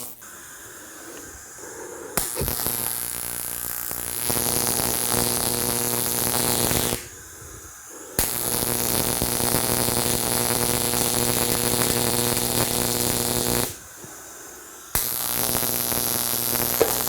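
High-voltage 12,000-volt transformers wired to a Heavy Hitters TIG welding rig give off a loud, steady electrical buzz in three long bursts, stopping briefly between them, with a quieter hum in the gaps.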